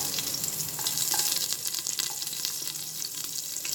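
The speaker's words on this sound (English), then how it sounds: "Now that my cumin seeds have splattered enough, I'm going to next add in my green chillies." Chillies sizzle and crackle in hot oil, a steady bright frying hiss with small pops, close and alone.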